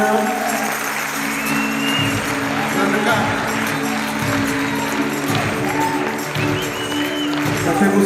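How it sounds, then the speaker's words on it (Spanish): Church congregation claps loudly and steadily in a continuous, dense wash of applause, with voices and low musical tones mixed underneath throughout. "¿Por qué no damos un fuerte aplauso al Rey en esta mañana?"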